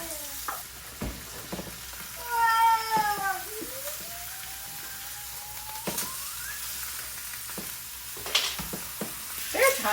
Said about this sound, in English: I'm gonna let it sear.